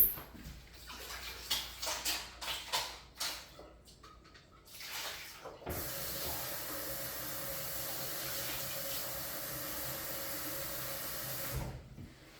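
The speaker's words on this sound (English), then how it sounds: "I'm going to pour some of the water off the top" Water is poured off the top of an overfull pot of eggs for boiling: a few clanks and splashes of handling, then a steady close stream of running water for about six seconds before it stops.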